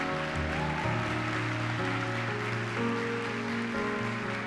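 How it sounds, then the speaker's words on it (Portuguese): Church congregation applauding, a continuous hiss of many hands clapping beneath sustained keyboard or organ chords, moderately loud and steady throughout. "Aplauda Jesus por isso"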